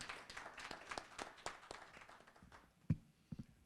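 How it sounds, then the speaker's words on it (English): Scattered, faint claps from an audience at a Nigeria Decides 2023 community gathering in Detroit, Michigan, greeting Mr. Moses Lukwago, irregular and fading out after a few seconds with a couple of louder late claps. "A round of applause for Mr."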